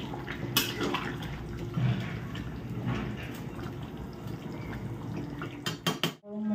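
Chandramukhi potatoes go into a cooking pot of boiled mutton, with clattering of utensils against the pot and soft liquid sloshing at close range, ending in a few sharp knocks.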